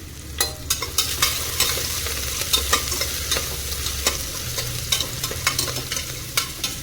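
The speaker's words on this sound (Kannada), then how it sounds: "ಇದಿಷ್ಟನ್ನು ಹಾಕ್ಕೊಂಡು ಸ್ವಲ್ಪ ಫ್ರೈ ಮಾಡ್ಕೊಳ್ಬೇಕು" Curry leaves, green chili and ginger-garlic paste frying in a pan, with a steady close sizzle and repeated sharp scrapes of a spoon stirring at a regular pace, no talk.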